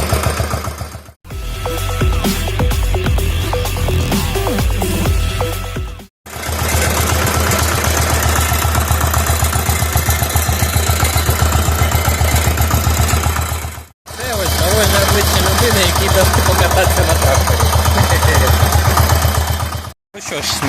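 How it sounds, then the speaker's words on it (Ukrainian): A walk-behind tractor engine converted into a small tractor runs loudly and steadily with a throbbing, chugging rhythm, cutting out briefly a few times before starting up again. "Це мотоблок перероблений в трактор."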